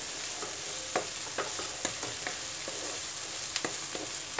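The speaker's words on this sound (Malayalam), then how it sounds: "ഇങ്ങനെ ഇട്ടിട്ട് നമുക്ക് ഫ്രൈ ചെയ്തെടുക്കാം" Onions and ivy gourd fry in a pan with a steady sizzling hiss, punctuated by short scraping clicks of stirring at irregular intervals, close and moderately loud, no talking.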